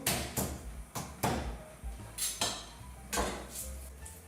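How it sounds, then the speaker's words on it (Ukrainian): Garlic cloves crushed under a flat knife blade on a kitchen cutting board: a series of about seven sharp, close knocks and thumps at irregular intervals, each with a brief clatter, with no talking. "часник розчавлюю"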